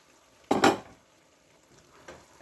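Chickpeas are stirred into a pot of beef and vegetables: two quick, close clattering scrapes of the spoon against the pot, then quiet with a faint later knock.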